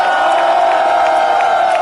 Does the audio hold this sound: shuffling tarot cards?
no